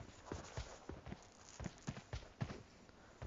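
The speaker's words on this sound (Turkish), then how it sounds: "İki ayak sesi aldım gibi." Footsteps in the video game PUBG Mobile, a run of rhythmic, fairly faint thudding steps against a hissy background.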